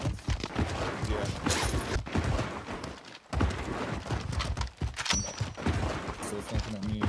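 Dense, continuous video game gunfire in a multiplayer shooter match, sniper shots mixed into heavy overlapping bursts and rumble, loud throughout with brief dips, under occasional talk.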